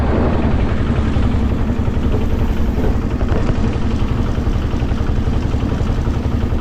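A motorised engine van drones continuously and loudly up close, a rough, dense mid-to-low engine rumble with a steady chugging texture and no speech over it, on a rural road toward a Sundarbans sea beach.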